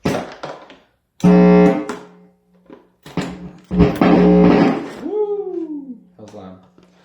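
A homemade fuzz pedal played through an amplifier lets out short, loud distorted bursts and thumps separated by gaps, then a droning hum and a descending squealing sweep, close up.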